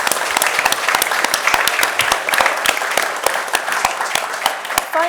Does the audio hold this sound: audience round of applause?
yes